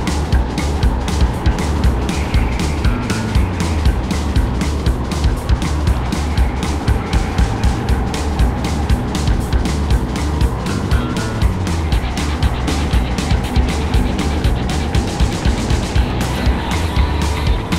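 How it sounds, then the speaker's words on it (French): A racing kart screams along the track during a four-hour endurance race, its engine buzzing loud and close with steady rhythmic pulsing and brief tire squeals as it pushes down the straight. "Je m'engage donc dans la dernière ligne droite avec le kart 13 pour tenter de dépasser le 5e"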